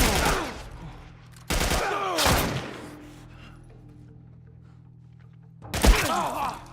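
Assault rifle gunfire in The Last of Us Part 1 video game, three separate bursts of rapid shots with ringing echo tails and quieter gaps between, loud and close.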